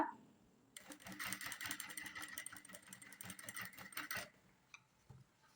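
Sewing machine running steadily as it stitches a folded fabric edge of even width: a loud, fast, continuous needle clatter lasting a few seconds, then stopping, followed by a couple of faint clicks.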